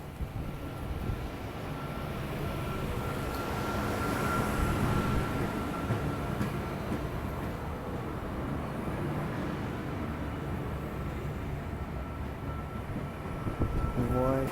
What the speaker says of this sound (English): V48 VSET pulling into platform 3, terminating service.